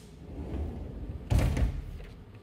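Doors of a CNC milling machine slide shut with a single firm thud at about mid-clip, over a steady low machine hum with no talking.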